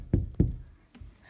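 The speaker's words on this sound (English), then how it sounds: "Knock at the door." Two firm knocks on a door in quick succession, close and dull, then a softer thump about half a second later.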